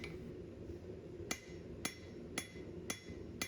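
Five evenly spaced blacksmith hammer strikes tapering hot metal ring out over a low background rumble, each a sharp clink with a short ringing tail.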